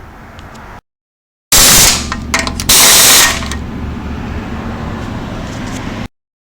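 A power tool tightening the bolts on a Toyota FJ Cruiser automatic transmission pan. Loud whirring bursts with short pauses between them give way to a steadier mechanical drone, close up, with abrupt cuts of silence at the start and end.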